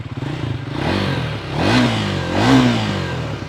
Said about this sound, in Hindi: ये बहुत मेलो साउंड करता है और एक ऑफ कोर्स एक बहुत अच्छी फील आती है जब इसे आप राइड करें तो। इस तरह से ये साउंड करता है।